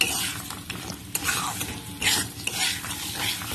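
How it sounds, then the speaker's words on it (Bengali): Gobindobhog rice frying in ghee while being stirred in a pan: a steady soft sizzle with repeated scraping and clinks of the spoon against the metal, close and continuous, with no voices. "চালগুলো আমি ঘিয়ের মধ্যে দিয়ে দেবো। দিয়ে 1 মিনিট মতন ভালোভাবে ভেজে"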